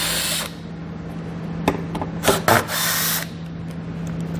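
A power tool backs out 10mm fasteners from the plastic under-guard of a 2020 Ford Fusion in short whirring bursts, with clicks and rattles between runs over a steady background hum.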